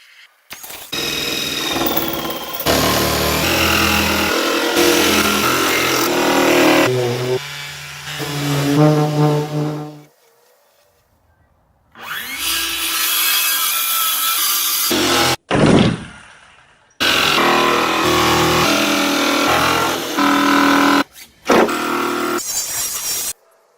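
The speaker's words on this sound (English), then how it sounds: "So I'm going to cut this out with the jigsaw." Jigsaw with an AccuCut guide cutting wooden candy canes, loud buzzing rasp in several long bursts with brief stops and a quiet gap midway, close and alone without speech.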